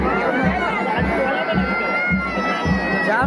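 A dense crowd bustles at a busy temple during a wedding, with a constant wash of overlapping voices, shouts and children's cries filling the space and a low rhythmic thumping underneath.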